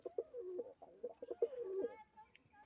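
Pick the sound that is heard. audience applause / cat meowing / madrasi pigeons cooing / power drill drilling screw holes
madrasi pigeons cooing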